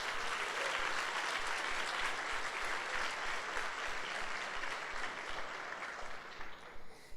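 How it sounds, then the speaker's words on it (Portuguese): A church congregation claps during a Sunday service, a steady, fairly distant roll of many hands applauding continuously for several seconds and fading slightly toward the end. "Dá um aplauso ao Senhor aí."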